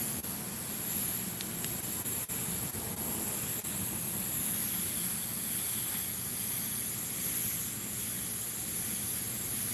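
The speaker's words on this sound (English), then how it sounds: "I'm gonna airbrush this kind of like a dip down, because your teeth kind of curve inward" An airbrush sprays acrylic paint onto a large 24x36 lip painting, giving a steady, even hiss that runs unbroken from start to finish with only slight swells in strength.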